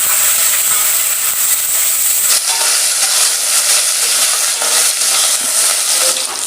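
Cubed medium-sized onions hit hot oil for a Bengali-style chicken Maharaja, setting off a loud, steady, hissing sizzle that continues unbroken throughout, with a brief rise in intensity partway through.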